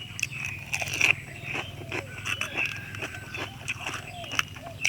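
Crunchy dried crispy squid tentacles bitten and chewed close up, a rapid series of sharp crackling crunches under a low steady background hum.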